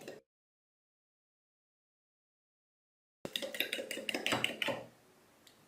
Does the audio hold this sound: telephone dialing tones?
no